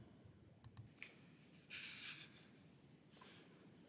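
A computer mouse clicks three times in quick succession, close and crisp against a quiet room hush, followed by faint soft shuffling sounds.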